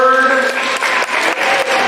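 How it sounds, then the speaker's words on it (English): A middle school assembly audience cheers and claps in a continuous burst of applause, with voices and shouts mixed into the loud crowd noise. "Can I hear some noise briefly here from the audience there?"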